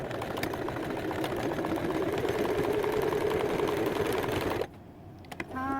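A sewing machine stitches children's leggings along the presser-foot width, running as a steady, close mechanical whir for several seconds before stopping, followed by a few small clicks.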